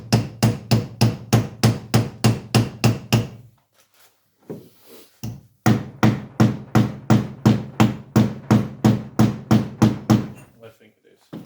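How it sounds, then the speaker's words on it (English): A hammer taps a gearbox shaft of a Ford 2000 tractor rapidly and evenly in two long runs of sharp, close metallic knocks separated by a brief pause. "Maybe a little tap with the hammer won't hurt."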